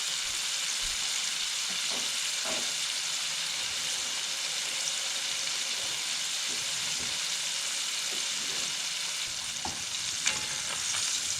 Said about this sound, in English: so we're going to have to go about 4 minutes on each side, 3 minutes, just to get a good sear.